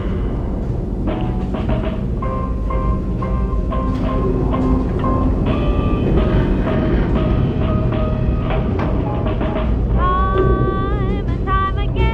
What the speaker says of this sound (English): the train arrives at the station